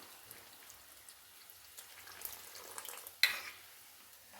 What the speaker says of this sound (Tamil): குழம்பு நல்லா கொதிக்க ஆரம்பிச்சிருச்சு